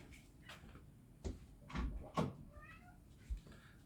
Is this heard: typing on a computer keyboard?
no